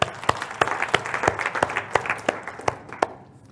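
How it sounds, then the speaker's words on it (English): Crowd applause with sharp, scattered claps rising briefly then fading out over a few seconds. "So give yourselves a round of applause too"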